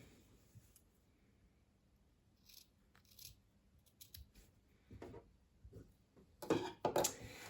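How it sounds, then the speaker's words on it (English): Scissors trim excess fabric from a sewn pouch, starting with faint sparse snips that build into a close, crisp flurry of cuts near the end. "I can trim off the excess bits of fabric there."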